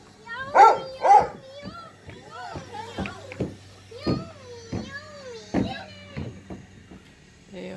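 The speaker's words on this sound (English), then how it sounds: "Dogs are barking." Several sharp dog barks, some close and loud, mixed with children's voices and other people talking nearby.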